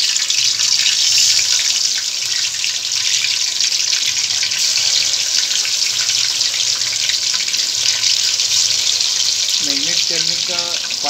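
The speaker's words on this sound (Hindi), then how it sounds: "अब हम लोग चिकन को इसमें फ्राई करने का प्रोसेस स्टार्ट करेंगे।" Chicken pieces fry in mustard oil in a kadhai with a loud, steady sizzle and hiss that runs unbroken the whole time, close by, with a brief faint voice near the end.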